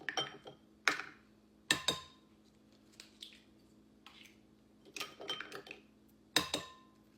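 Large eggs cracked one after another into a bowl for a Southern vinegar pie: a handful of sharp, close shell cracks spaced a second or so apart, each trailed by a soft wet slip and drip, with no talking.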